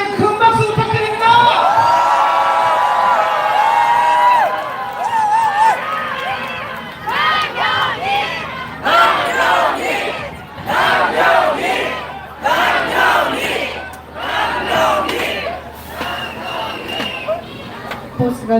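Crowd cheering and shouting at an outdoor candlelight political rally in Michuhol-gu, Incheon, with loud voices and whoops rising in repeated bursts over a steady crowd din, a voice over a loudspeaker at the start.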